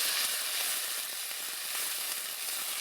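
Crushed garlic sizzles steadily in oil in a pan over low to medium flame. The frying is close and constant, with a bright crackling hiss and faint scrapes from stirring, and no talk.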